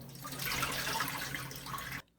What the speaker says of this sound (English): Rinse the bean sprouts under cold water, then drain them well.